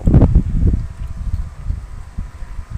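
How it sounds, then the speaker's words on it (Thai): Strong wind blowing outdoors around midday, a loud low rumbling buffet against the microphone with a burst at the start, then steady gusting roar throughout. "อากาศ ลมแรงอย่างนี้ครับผม"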